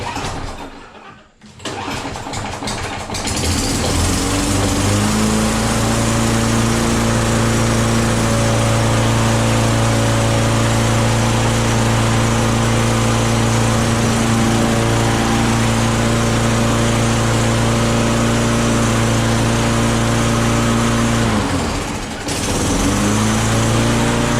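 A small gas lawn mower with a primer bulb cranks briefly, catches and settles into a loud, steady near running drone for about twenty seconds, dipping once near the end, with no talk over it.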